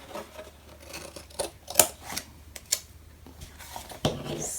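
Paper pieces for a handmade mini album trimmed in quick, crisp snips and clicks, several scattered cuts close up in a quiet room.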